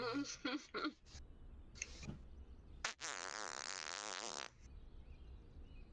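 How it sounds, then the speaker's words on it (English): A fart sounds nearby, a buzzing, sputtering blast of about a second and a half, preceded by a few short clicks and muffled noises, with no talk over it. "Who farted?"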